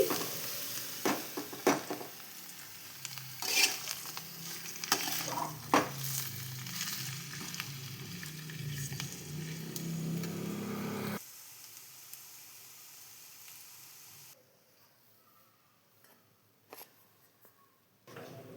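Sasava leaves fry in a pan for a Telugu-style tempering, giving a steady crackling sizzle with scattered clicks of stirring; the sizzle drops sharply partway through and fades to a faint hiss near the end, with no talking.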